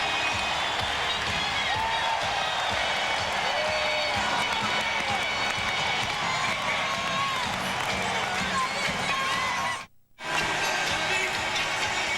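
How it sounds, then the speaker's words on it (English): Basketball arena crowd at a 1994 NBA playoff game between the Jazz and Nuggets roars in a sustained, loud wall of cheering during a timeout, with a commentator talking over it and a brief dropout near the end. "Listen to this crowd."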